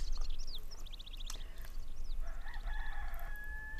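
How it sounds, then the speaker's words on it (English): Rooster crowing in the video game Dark Cloud, several repeated cock-a-doodle-doo calls over a steady farmyard ambience, fairly close and clear, with no talking. "That rooster is starting to get on my nerves."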